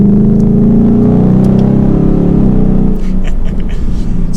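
Ford Mustang GT V8 with a 10-speed automatic downshifting, a loud engine note dropping in steps through several gears, then settling into a lower rumble.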